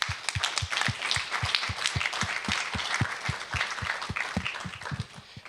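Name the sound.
audience round of applause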